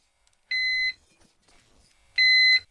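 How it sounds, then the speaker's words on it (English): Small UPS battery backup alarm after switching to battery mode, two identical sharp, high-pitched beeps about half a second each, spaced roughly one and a half seconds apart in an otherwise quiet room. "suddenly it switches to battery mode and starts its little alarm"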